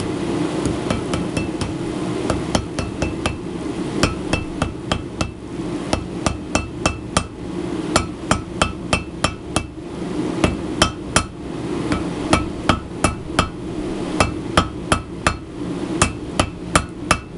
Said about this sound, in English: This is a 2-pound hammer. Start with light hammer strikes.